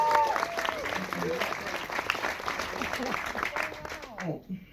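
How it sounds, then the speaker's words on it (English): A film Q&A audience applauds an Oscar-nominated actor, a dense patter of clapping across the whole stretch, moderately near, with voices speaking over it before it thins out at the end. "Let's give a round of applause"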